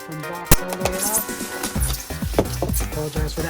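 A snug styrofoam box is pulled out of a Streets of Rage 4 Collector's Edition package for Nintendo Switch, giving a close, loud run of rubbing squeaks and scraping crackles with a sharp snap near the start.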